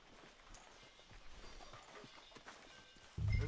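Horse hooves clip-clop at a steady walking pace in a Red Dead Redemption 2 town street, quiet and mid-distance, before a louder rumble cuts in at the end.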